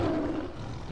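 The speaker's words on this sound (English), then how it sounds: "there's a cave lion down there" A single deep, drawn-out roar from a cave lion in Far Cry Primal rumbles loud and close for about a second, fading slightly toward its end.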